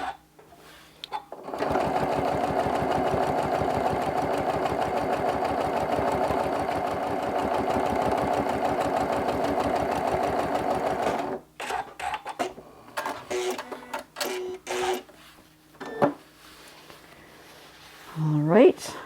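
A sewing machine stitching decorative stitches on a crumb-fabric quilt runs as a steady, fast mechanical whir for about ten seconds. Shorter bursts of stitching follow, and a person's voice comes near the end.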